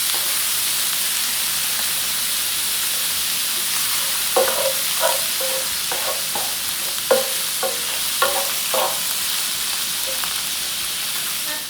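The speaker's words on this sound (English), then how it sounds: "I'm just using a pound of hamburger. So let me get this browned up" A pound of hamburger meat browns in a frying pan, a steady sizzle running throughout with a cluster of spatula scrapes and stirring knocks in the middle; no voices.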